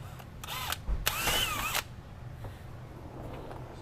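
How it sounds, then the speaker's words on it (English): A power drill boring into a plastic bumper on a 2020+ Ford Transit whirs briefly, rising in pitch for under a second before stopping, close by, followed by quiet handling noises. "and then we'll bend it down and drill it."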